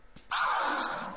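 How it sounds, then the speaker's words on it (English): A sample in FL Studio is scratched DJ-style: a short, bright, scratchy burst kicks in after a faint lead-in and keeps scraping for about a second. "You can hear that scratching away."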